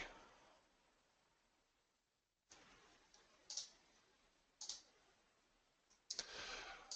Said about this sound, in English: go here to the enabled, click false, and then click apply